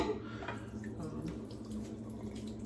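Running water splashes softly from a tap as a Rockwell Model T safety razor is rinsed, with faint drips and trickles, quiet and close, no speech.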